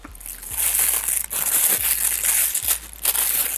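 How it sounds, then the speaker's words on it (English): Close crinkling and crushing of packing paper from a camera lens box, squeezed in several bursts with soft crackles and dull thumps and no talking. "I always loved this type of paper when I was a kid, just making them popping noises."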